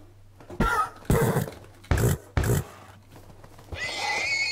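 Minecraft horse neighing in a series of loud whinnies, three or four sharp bursts with pauses between, followed by a higher, thinner cry at the end over a low steady hum.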